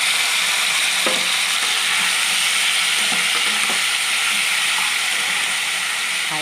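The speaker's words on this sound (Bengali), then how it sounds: "আমার তেলটা গরম হয়ে গেছে, আবার ম্যারিনেট করা মাংসটা আমি দিয়ে দিলাম।" Marinated chicken pieces for chicken chokhani frying in hot oil over a high flame, a steady loud sizzle and hiss running throughout with occasional soft stirring scrapes and clinks.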